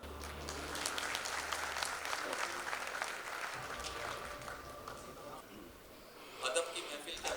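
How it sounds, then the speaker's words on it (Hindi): Audience applause at an Indore mushaira, a dense wash of clapping from a large crowd that runs steadily through the stretch, with a few raised voices and murmurs mixed in and a brief surge near the end. "तालियों में कंजूसी मत करिएगा, तालियां ही बजाना।"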